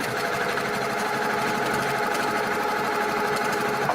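A sewing machine runs steadily and continuously along a marked line on quilt fabric for a mosaic squares block, a close, even whirring hum with no pauses and no voices.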